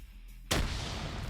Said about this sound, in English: Grenade damages that building.